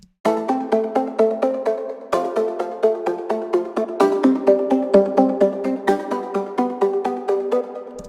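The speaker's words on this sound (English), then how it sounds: "The back and forth arp is a slower back and forth." A synth or keyboard arpeggio moves slowly up and down in even, plucked notes, each decaying before the next, with no voices.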